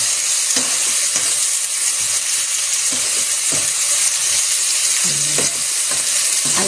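Ampalaya (bitter gourd) fries with egg in a pan, a loud, steady, close sizzling hiss that runs throughout, with faint occasional stirring scrapes and no talking.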